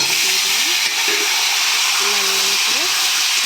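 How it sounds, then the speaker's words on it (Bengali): Potatoes frying in oil in a wok, giving a loud, steady bright sizzle, with a few brief faint tonal sounds rising underneath. "আলুগুলো লাল লাল ভাজা হয়ে গেছে এবার আমি তুলে নেব"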